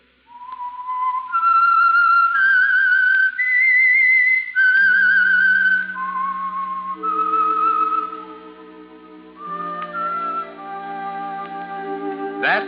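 A clear, loud whistled radio theme melody rises and falls alone, with sustained orchestral chords entering partway through beneath it.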